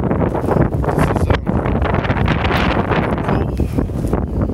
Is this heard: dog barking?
no